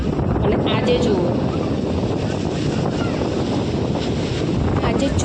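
Strong wind gusting across Dumas beach in Surat by the sea, a steady, loud rushing roar buffeting the microphone without a break.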